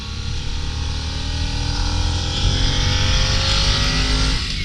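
Harley-Davidson Nightster 975 motorcycle accelerating hard, a loud close engine roar climbing steadily in pitch through the gears with a rising whine toward the end.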